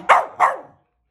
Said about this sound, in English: Barking is not your food.